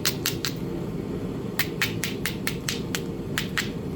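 Knapping stone to trim the edge of a biface, with sharp clicking strikes in quick bursts, three at the start and a run of about nine more after a pause, close and crisp over low background noise.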